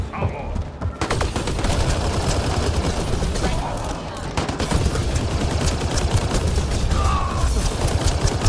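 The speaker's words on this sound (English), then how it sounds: "What are they shooting at us for?" Sustained rapid gunfire and fusillades from a firefight in Mass Effect: Andromeda at a Krogan colony, dense overlapping bursts continuing throughout with scattered louder shots.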